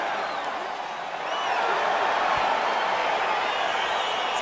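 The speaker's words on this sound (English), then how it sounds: "crowd getting excited as this fight gets underway" Arena crowd in the video game EA Sports UFC 4 as a fight gets underway, a steady dense roar of cheering and chatter that swells slightly and holds, with whistles faintly audible.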